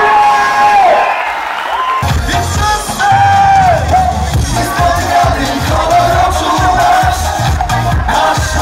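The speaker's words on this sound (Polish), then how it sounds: "Wielkie brawa dla Karola!" A crowd at a music festival gala in Szczecinek cheers, whoops and yells in a loud, sustained roar, with music and voices carrying through it.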